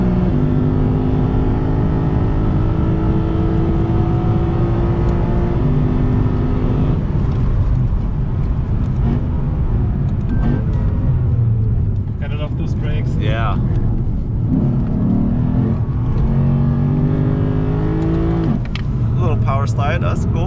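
A Lexus RC F Track Edition laps the Nurburgring Grand Prix circuit, its engine droning steadily from inside the cabin with rising and falling revs through gear changes, while two people chat over the noise.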